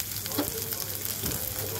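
Bay leaves, dried red chillies and ginger frying in hot oil, a steady close sizzle with a brief louder crackle as the spices hit the pan, no talk.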